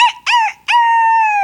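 A man imitating a rooster crowing with his voice: two short clipped calls followed by a long, loud, sustained crow, close and alone.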